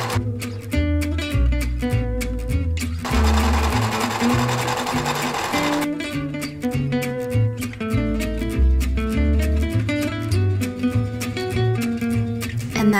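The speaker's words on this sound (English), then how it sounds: "I'm gonna go ahead and sew this just regularly." A home sewing machine stitches bulky, pleated fabric panels of a dress, running in steady mechanical bursts with short pauses and one fast continuous stretch, loud and close with no talk.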